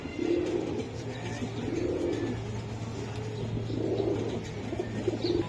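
Giribaz chila pigeons cooing in low, continuous overlapping coos, with a few faint chirps and a steady background hum.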